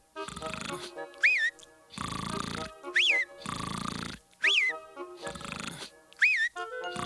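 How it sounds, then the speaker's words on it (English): A cartoon parrot snores on its master's arm: rhythmic, loud raspy inhales alternating with squeaky rising whistles, repeating about four times in a steady cycle. "On his master's arm, he began to snore."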